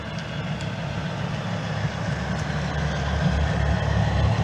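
An OO gauge model train runs under catenary wires on a large loft layout, a steady low rumble that gradually grows louder across the clip, with no talking.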